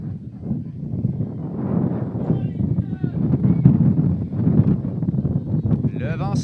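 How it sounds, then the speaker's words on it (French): Heavy wind buffeting the microphones outdoors at a youth soccer match in Montréal, loud gusty rumbling that swells and fades under a commentator's voice. "Le vent se lève à Montréal."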